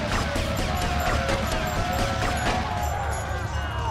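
In GTA Vice City, a gun fires at objects in a steady string of sharp, close cracks and smashing impacts that keep going without a break.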